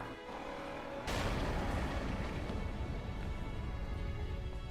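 A cannon blows up in Stellar Blade: a sudden heavy explosion bursts after a second of quieter ambience, then rolls on as a loud, dense rumble of debris and fire.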